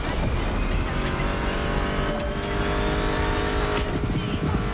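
Muscle car engines run continuously at close range, a steady dense roar with tire noise and a brief surge near the end, heard alone without talk.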